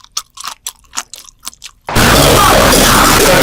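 Crunchy chewing of noodles during a mukbang: a run of separate sharp bites and crunches, close and loud, then a sudden dense wash of continuous noise for the rest.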